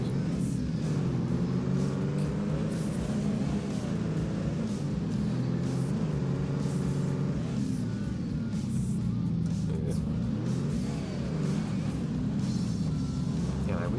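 ATV engine in ATV Offroad Fury 4, a steady low droning rumble that rises and falls in pitch as the quad bike accelerates and slides along a beach, continuous throughout with a voice talking over it.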